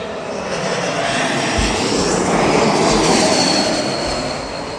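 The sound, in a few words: aircraft engine whistling howl on taxi, Swiss plane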